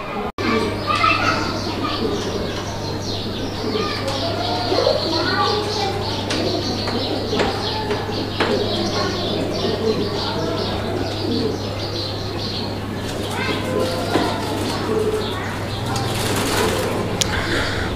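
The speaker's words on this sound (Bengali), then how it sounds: "আপনাদের এই যে রেসার কবুতরের জোড়াটা" A pair of racer pigeons coos softly and repeatedly beneath someone talking almost nonstop, with a steady low electrical hum running throughout.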